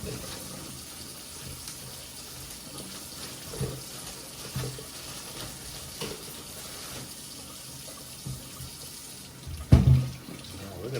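Tap water running steadily into a kitchen sink while potatoes are washed under it, a constant close splashing with brief louder gushes and handling noises, and a sharper burst near the end.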